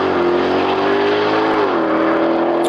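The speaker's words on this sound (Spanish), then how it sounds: "Es un Mustang, melo ahí, el GT500" A Ford Mustang GT500 engine holds a loud, steady revving drone at close range, its pitch easing slightly downward partway through, with no talking.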